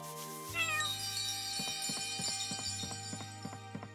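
A cat meows in the video game Chained Echoes, one clear meow up front over game music with a steady tone and rhythmic plucked notes.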